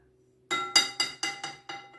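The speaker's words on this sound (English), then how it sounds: "Put the spoon in the glass so it's out of the way." A metal spoon clinks repeatedly against a glass as it is set inside during home oobleck making, six bright ringing taps in quick succession, close and clear.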